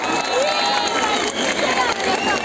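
A concert crowd at a municipal youth concert in Erbaa cheers and shouts continuously, a dense loud wash of voices with scattered applause mixed in.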